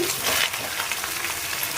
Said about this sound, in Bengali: এইদিকে এই মাছের মাথা ভাজা হচ্ছে